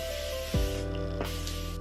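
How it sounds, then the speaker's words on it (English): Morphe Continuous setting spray mists out in a steady, close hiss lasting under two seconds, with faint background hum and no voices. "Finishing off with setting spray, I'm going in with the Morphe Continuous Spray"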